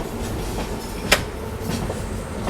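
An express train from Bengaluru to Bhubaneswar rolls onto the Vijayawada–Visakhapatnam main line, wheels clacking in a steady rhythm over the rail joints with one sharper jolt.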